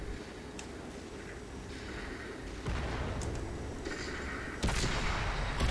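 Tank cannon fire in World of Tanks, with heavy booming shots landing at intervals over a constant rumbling battle ambience, two sharper blasts standing out.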